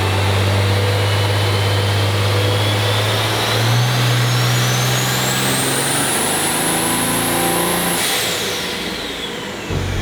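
A tuned 2019 Ram truck runs hard on a dyno, its engine droning loud and steady and climbing in pitch through a long pull before backing off near the end.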